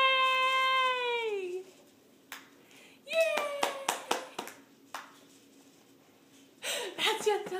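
A baby claps hands in a few soft, irregular pats, mixed with the child's squeals and cooing and a woman's high, sing-song voice talking nearby.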